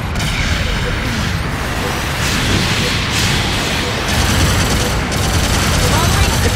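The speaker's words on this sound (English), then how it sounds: "Long-range support fire incoming!" Long-range supporting fire in Mobile Suit Gundam Battle Operation, a dense, loud barrage of rumbling blasts and booms rolling on continuously, with bursts of heavier impacts.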